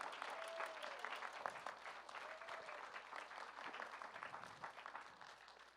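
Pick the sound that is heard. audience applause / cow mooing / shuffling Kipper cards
audience applause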